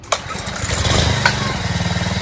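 A Honda-powered garden tiller engine fires up after a pull start, a sharp catch followed by a steady, loud, rapidly pulsing idle close by, with a faint voice underneath.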